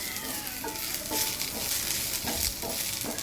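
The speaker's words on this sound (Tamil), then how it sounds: "நல்லா வாசனை வர்ற அளவுக்கு நல்லா ரோஸ்ட் பண்ணிடுவோம்" Moringa leaves sautéed and roasted in a pan give a steady, moderately loud sizzle with soft scraping stirs at a regular pace, and no voices are heard.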